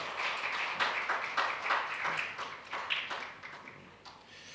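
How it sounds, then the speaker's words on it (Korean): Congregation clapping during a Korean church Sunday service in Jakarta, a soft, steady patter of many hands that swells and fades over a few seconds without voices. "다시 한번 박수 주시고요"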